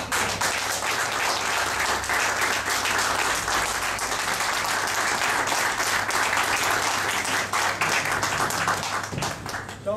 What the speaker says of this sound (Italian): c'è l'assemblea che ti saluta e ti augura un grande applauso